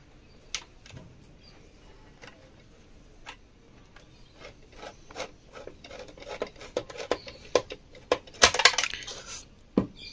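Metal screw work on a Panasonic mixer jar lock switch during repair: faint, scattered small ticks and clinks, sparse at first and growing denser and louder toward the end, with sharp metallic taps near the close.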